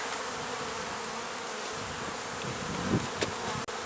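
Honeybees buzzing steadily in an opened beehive during an early-spring inspection on a warm March day, a dense close drone with a couple of brief knocks near the end and no talk.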